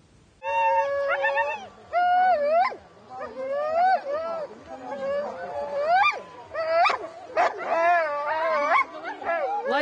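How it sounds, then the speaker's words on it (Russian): Sled dogs bark, yip, howl and whimper excitedly from all sides before a sled dog race, a dense overlapping chorus that rises and falls, with a voice speaking over it. "Лай доносится со всех сторон."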